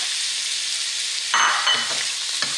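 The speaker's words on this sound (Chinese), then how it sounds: "我们把蒜和洋葱放进去，用小火慢慢把它们煸香一下。" Garlic and onion frying slowly over low heat, a steady close hiss of oil that swells briefly near the end as the pieces are stirred, with no talking.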